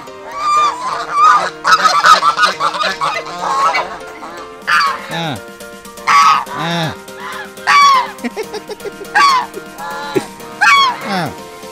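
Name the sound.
ducks squabbling and honking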